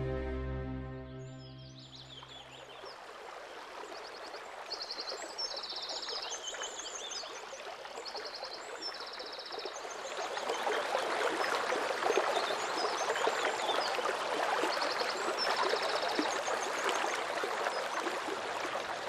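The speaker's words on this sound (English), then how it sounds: "I'm walking along the Rugova Gorge, powered by the Peć Bistrica River" Steady rushing water of the Peć Bistrica River flowing through the Rugova Gorge in Kosovo, a continuous broadband wash that swells louder midway, with faint bird chirps above it.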